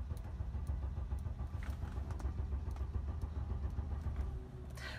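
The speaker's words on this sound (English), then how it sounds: "we know this vehicle will crank and it won't start" A Mercedes V6 turbo diesel engine cranks over without catching, a steady loud rumbling churn of the starter that runs nearly unbroken for about four and a half seconds before easing off, close to the mic with no talk.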